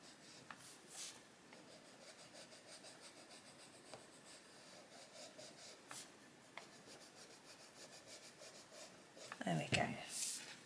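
Coloured pencil rubbing steadily across paper while shading a shark illustration from an adult colouring book, a soft continuous scratchy texture, close and quiet, with a louder rustle near the end.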